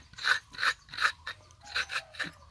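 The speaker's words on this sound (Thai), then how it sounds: "ขูดมะพร้าวครับ" Coconut being grated by hand, a series of close, rhythmic rasping scrapes, about seven strokes at a steady pace with short gaps between them, and no talking.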